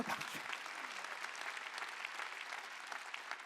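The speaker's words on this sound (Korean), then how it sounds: "박수치라는 거다" A church congregation applauds during a sermon: dense, even clapping from many hands, heard faintly and at a distance, continuing without a break for several seconds.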